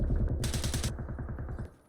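Rapid automatic gunfire from a Zero Hour match on a balcony, a dense close burst of shots rattling steadily for about two seconds, with a brighter cracking volley midway before fading.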